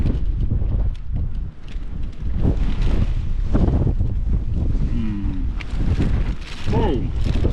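Strong wind buffets the microphone on an exposed Peak District hilltop by Bronze Age stone circles, a loud continuous roar with gusts that swell and ease, and voices speak briefly over it.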